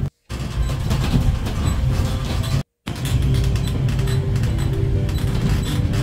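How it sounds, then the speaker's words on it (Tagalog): A small tourist train rumbles along near a beach, a steady low mechanical roar and rattle of wheels and cars that cuts out twice briefly, continuous and fairly close. "Nag-enjoy kami dito sa maliit na chucho train."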